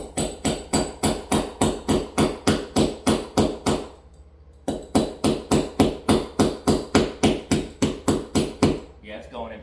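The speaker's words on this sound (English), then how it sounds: "tap it with this crescent wrench and see if it'll go in." A crescent wrench taps a TV wall mount part into place in a fast steady rhythm of sharp metallic knocks, about twenty close strikes with one brief pause partway through.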